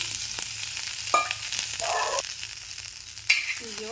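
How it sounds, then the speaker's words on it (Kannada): Cut okra frying in a little oil in a pan, a continuous sizzle with occasional utensil clinks and scrapes. "ಬೆಂಡಿಕಾಯಿಗಳು ಕಟ್ ಮಾಡಿವ ಹಂಚಿಗೆ ಹಾಕಿನ್ರಿ ರೀ ಒಂದು ಸ್ವಲ್ಪ ಎಣ್ಣೆ ಹಾಕ್ತೀನಿ"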